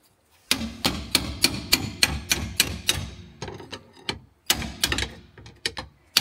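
A hammer striking metal during a repair on a Fiat Doblo's broken rear leaf spring: a series of sharp, ringing blows at a steady pace of about two per second, a short pause, then more strikes, close and alone.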